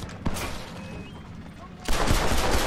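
Gunfire from a semi-auto shotgun in the Red Dead Redemption video game, one sharp early blast followed by a dense burst of loud shots near the end.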